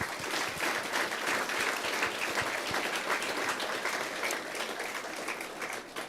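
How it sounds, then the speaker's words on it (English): A big audience applauds steadily at a lacrosse award ceremony, dense sustained clapping that holds at an even loudness for several seconds before starting to fade. "Please give them a big round of applause."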